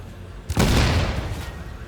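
A sudden loud explosive blast erupts and rolls on with a dense, rumbling roar that slowly trails off, a planted breaching charge in the video game The Division.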